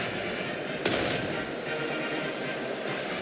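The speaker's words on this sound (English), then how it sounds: "Firing for effect. Artillery awaiting orders. Beginning the barrage." Artillery barrage in the strategy game Strategic Mind: a sharp loud blast over a dense rumbling backdrop of distant firing, with a few fainter reports following.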